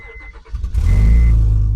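A Honda Pilot whose timing belt has snapped cranks briefly, then its engine catches and settles into a loud, steady run close by. No voices are heard.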